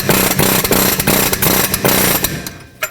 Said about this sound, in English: So now we'll get our air chisel with the fan tool and snug it up.